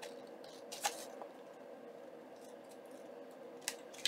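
Scissors trim pictures cut from book pages for a junk journal: a few crisp, close snips stand out against a quiet room hiss, with one near the start and two more near the end.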